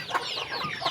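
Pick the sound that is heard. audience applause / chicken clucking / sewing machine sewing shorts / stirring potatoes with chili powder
chicken clucking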